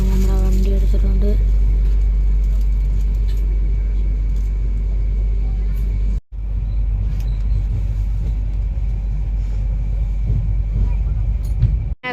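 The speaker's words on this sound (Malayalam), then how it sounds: "അങ്ങനെ നമ്മുടെ വണ്ടി എടുത്തിട്ടുണ്ട്." A car pulls away and drives on, its engine and road rumble droning steadily and close from inside the cabin, with a brief dip midway and low voices mixed in.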